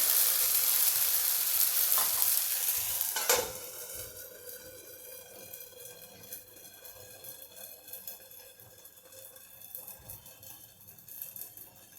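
Konkani cucumber tavsa batter hits hot oil in a pan with a loud hiss that settles after a few seconds into a softer, steady sizzle that continues throughout.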